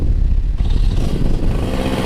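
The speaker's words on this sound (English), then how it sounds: "We're going to go ahead and restart the engine, assuming she will." A Freeride 16 paramotor engine restarts in flight, a loud, continuous rough mid-range engine drone with clattering texture and a slight change in pitch as it catches and settles, under constant wind rush.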